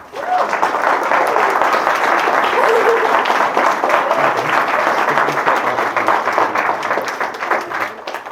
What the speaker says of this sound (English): I think that deserves a massive round of applause